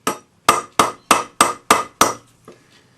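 A hammer strikes a metal cuff on a ring mandrel in six evenly spaced ringing blows, loud and close, followed by one lighter tap.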